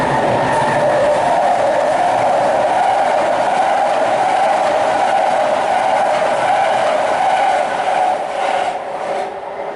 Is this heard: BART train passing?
yes